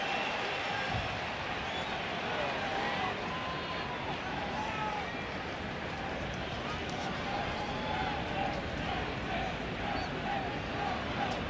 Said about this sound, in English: And a somewhat derisive cheer from the crowd.